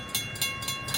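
A local freight train passing close by, with a steady rumble and rhythmic clickety-clack beats from the wheels crossing rail joints.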